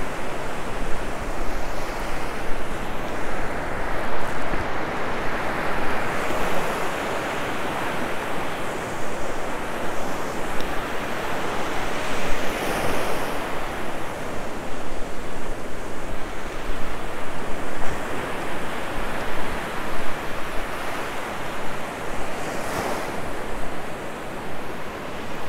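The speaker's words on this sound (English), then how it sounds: "if you enjoy the ocean, it is a beautiful ocean" Ocean surf rolling and breaking on a Sanibel Island beach, a continuous loud roar of waves with gentle swells of intensity and some wind buffeting, close and with no voices.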